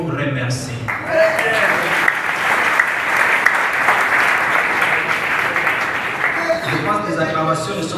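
A crowd at a meeting breaks into dense, sustained applause lasting about six seconds, with speech just before and after.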